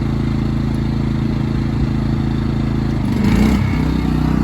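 An air conditioner compressor, running during a power outage, hums loudly and steadily in the foreground, then shifts and surges briefly as it kicks on, with no talk.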